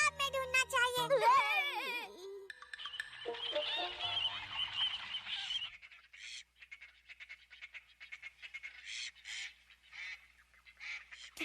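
Cartoon birds honking and squawking at a pond, a burst of loud, wobbly calls at first, then scattered quacking honks continuing more faintly against near silence.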